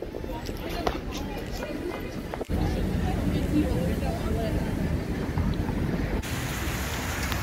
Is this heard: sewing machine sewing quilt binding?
no